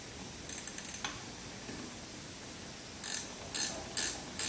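A wrench ratchets in short bursts of rapid clicking while tightening on a 1976 Corvette half shaft, with quiet gaps between strokes, close and fairly faint.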